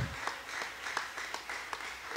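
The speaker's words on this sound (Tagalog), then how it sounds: "Palakpakan natin ang ating mahal na Panginoon." A church congregation applauding during a preaching service, a rhythmic unison clap at an even beat of roughly three claps per second over a wash of scattered applause, heard at moderate level without speech.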